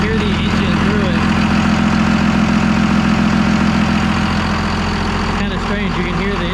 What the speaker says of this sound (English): On this thing is super loud. You can hear the engine through it.